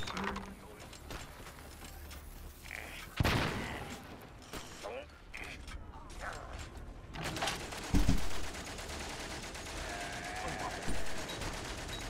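Gunfire and a grenade blast in the World War I video game Valiant Hearts, with sharp bursts of shots and mechanical clatter, a loud impact near the middle and another burst toward the end.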